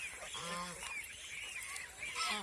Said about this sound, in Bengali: আমার হাঁসগুলি কুচুরিপানা খাইতেছে